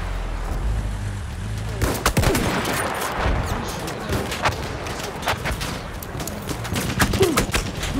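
Battlefield 1 gunfire on the Galicia map: loud rapid rifle and machine-gun bursts crack repeatedly over a rumbling battlefield, some shots close and sharp, others farther off, with a voice briefly audible between volleys.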